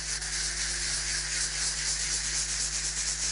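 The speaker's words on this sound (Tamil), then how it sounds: "முதல்ல நம்ம போர்ட் ப்ரிப்பரேஷன் பண்றதுக்கு உப்புத்தாள் யூஸ் பண்ணி ஃபுல் பாடி நம்ம சாண்ட் பண்ணி ரெடி பண்ணிக்கணும்" Sandpaper worked by hand over a plywood board being prepared for a mural, giving a steady, continuous close rubbing hiss with no talking.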